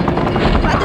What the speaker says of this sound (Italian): Non mi posso aggrappare all'elicottero per inseguirlo.